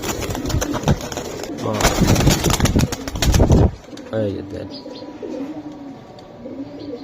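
Racing and Giribaz pigeons coo nearby while someone talks over them, followed by softer, lower cooing once the talk stops.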